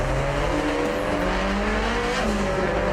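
A street-racing car with a 2-liter engine pulls hard. Its engine note climbs in rising tones over loud, continuous road roar, close and unbroken for the whole stretch.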